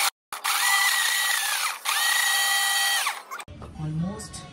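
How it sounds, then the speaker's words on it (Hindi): A kitchen grinder blends a vanilla ice cream mixture in two loud, steady whirring bursts with a rising and falling motor pitch, then cuts off as a voice speaks. "और अब आप इसको करेंगे ग्राइंड"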